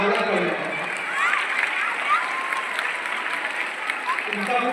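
Applause from a school audience honoring parents and teachers at a student competition event, a steady dense wash of clapping throughout, with a faint voice or cheer over the top.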